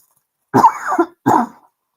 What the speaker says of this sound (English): That is an allergy cough because I neglected to take my allergy med.